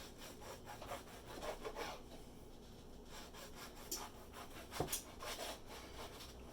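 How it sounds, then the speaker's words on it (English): A knife saws back and forth through a loaf of bread, cutting it into thick one-inch slices, with a rough, rhythmic rasping close by and no talk. "So this is where I'm going to do my bread. So simply cut them in nice lengths, probably about 1 inch wide or 1 inch thick."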